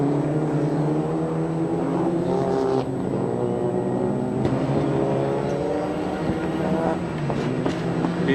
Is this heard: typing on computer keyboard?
no